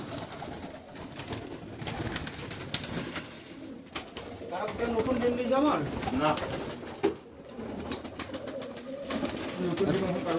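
Pigeons coo repeatedly in low, throaty rolling calls, close by, over a busy background murmur.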